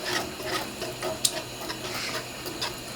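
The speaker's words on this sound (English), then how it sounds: "you just keep on having to whisk" A whisk scrapes and clicks rhythmically against a pan as shrimp pasta sauce is beaten, quick repeated rasping strokes close up with a sharp tap partway through.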